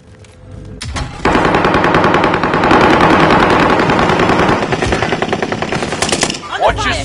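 Rapid automatic gunfire rattles loudly in a shooter video game, a sustained burst of close shots with voices calling out over it.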